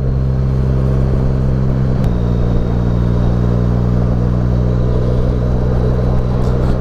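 A motorcycle ridden on the road in cold weather, heard as a loud, steady engine drone mixed with wind rumble, continuous and close throughout, with no talking.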